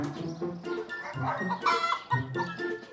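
A chicken clucks repeatedly in short, close, nasal bursts, one call running into the next without pause.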